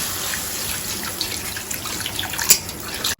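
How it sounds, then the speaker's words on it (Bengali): Water is poured into a pan of egg curry masala after the spices and oil have been fried, giving a steady close gushing and splashing with a small clatter near the end. "এই যে এখন জল দিয়ে দিব আমি"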